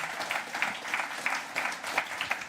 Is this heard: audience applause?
yes